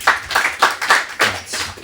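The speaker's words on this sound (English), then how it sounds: "clap if you've been to the Western Wall" A comedy audience gives scattered, sparse clapping, about six or seven separate claps spread unevenly over under two seconds.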